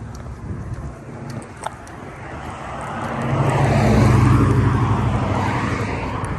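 A 1988 Monte Carlo SS with a loud exhaust drives along, its low engine rumble steady at first, then swelling into a heavier roar around the middle before easing slightly, continuous and close.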